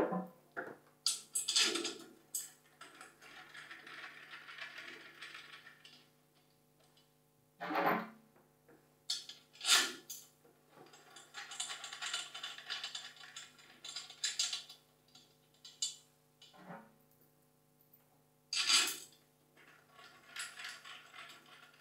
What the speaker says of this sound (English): So I'm tightening these by hand, as tight as I can do them.